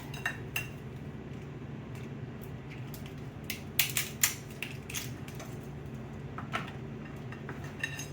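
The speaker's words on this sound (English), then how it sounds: "So what I want to do is break these crabs in half." Blue crabs broken in half by hand, a scattered run of sharp shell cracks and clinks over a low steady background hum, with a few louder snaps clustered together in the middle.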